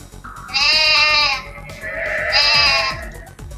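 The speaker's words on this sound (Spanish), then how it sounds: "por ejemplo aquí la oveja" Two drawn-out sheep bleats, loud and close, each wavering for about a second with a short pause between, played as an audio file in an interactive digital book, with no talk over them.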